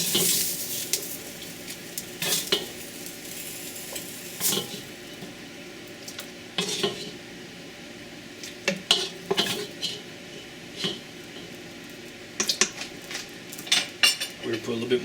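Carrots, celery and onions for lamb stock sizzling in a pot while being stirred, with clanking utensil scrapes and knocks against the metal over a faint frying hiss, close by.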